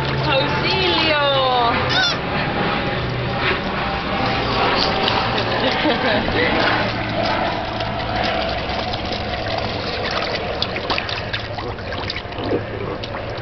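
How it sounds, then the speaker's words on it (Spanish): A young child shrieks and cries loudly near water, high wailing cries over a running engine-like hum and splashing, with adults talking close by throughout. "Ya se está privando de tanto chillido"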